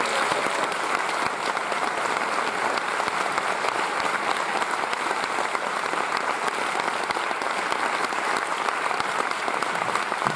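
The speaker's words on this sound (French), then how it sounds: "merci d'applaudir comme il se doit Madame Monica Bellucci" Dense, loud festival audience applause in a Paris cinema hall at the Etrange Festival opening, greeting actress Monica Bellucci; a continuous wall of clapping without pause, no voices over it.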